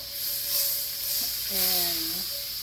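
Butter melts in a roasting pan for a pot roast, giving a soft steady sizzle and hiss beneath a brief tonal squeal near the middle.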